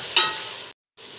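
Ginger garlic paste frying in a pan as a non-veg pulao is cooked, a brief broadband sizzle rising sharply then holding steady before cutting to silence and returning faintly.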